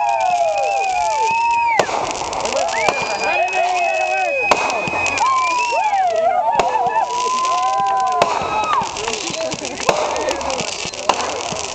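Wedding fireworks display: whistling rockets rise and fall in long tones through the sky, punctuated by sharp bangs and crackling pops, loud and continuous throughout.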